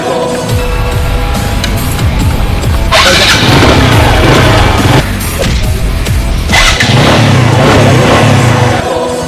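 A damaged motorbike's engine starts, then revs loudly in strong bursts, rising and surging over about nine seconds with music-like background, no talk.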